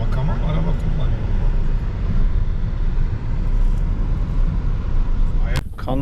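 A car drives along, heard from inside the cabin as a loud, steady low road and engine rumble, with a person talking over it and a brief sharp knock near the end.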